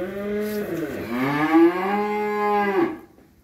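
A cow at a Vĩnh Long cattle farm gives a single long, loud, close moo lasting about three seconds, with no talking.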